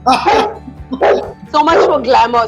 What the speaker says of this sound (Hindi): मेरा कुत्ता भौंक रहा है.